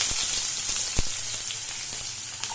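Onions frying in hot oil over a low flame give a steady soft sizzle with a few crackles and pops, faint and without talk.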